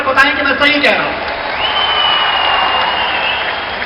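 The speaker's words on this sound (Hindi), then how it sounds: "कड़कती हुई तालियों के साथ हाथ उठाकर बताएं कि मैं सही कह रहा हूं।" A crowd at a political rally in Bhopal breaks into applause just after a raised voice, with steady massed clapping and a sustained high whistle-like tone running underneath.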